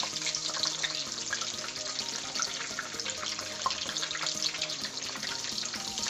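Whole green chillies frying in hot oil for baingan bharta make a steady, close sizzle with fine crackling pops throughout, over a soft tonal background and with no talk.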